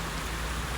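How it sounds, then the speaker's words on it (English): Steady rain falls outside, a dense, even hiss with no breaks, filling the whole moment at moderate loudness without voices. "it's raining, guys. I know y'all hear it"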